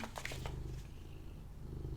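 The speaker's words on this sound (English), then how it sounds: "Sorry if that purr is very loud." A cat purrs right against the microphone, a close, steady low rumble with rhythmic breathing pulses, joined briefly by a few soft rustling sounds near the start.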